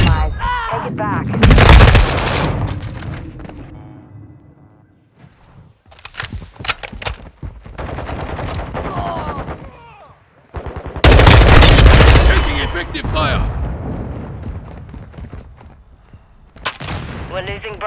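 Gunfire rages in an objective-capture video game battle, with bursts of automatic weapon fire and explosive booms in several loud clusters separated by quieter stretches, while announcer-style voices call out over the action.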